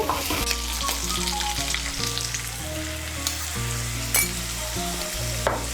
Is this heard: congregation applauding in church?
no